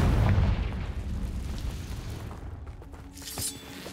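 A Confringo spell explosion in the video game Hogwarts Legacy: a loud deep boom at the start that rolls off into a fading rumble, with a smaller crackling burst near the end.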